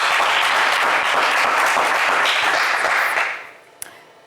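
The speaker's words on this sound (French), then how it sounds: "on vous applaudit bien fort" Studio audience applauding loudly on a French television game show, a steady dense wash of clapping that fades out near the end, followed by a single sharp clap.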